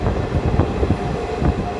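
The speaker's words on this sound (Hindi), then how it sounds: "यहाँ से हमारा अकोला से डिपार्चर होती है, हमने स्पीड पकड़ ली अच्छी खासी" Kolhapur–Nagpur Express rolling out of Akola Junction and gathering speed, a steady loud rumble of wheels and carriages on track with faint clattering, no voices.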